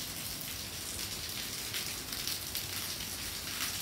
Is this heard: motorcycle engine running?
no